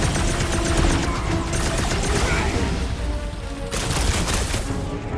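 Combat in the Guardians of the Galaxy video game fills the scene with loud, dense gunfire, rapid overlapping shots and blasts under a busy mix of effects, continuous throughout.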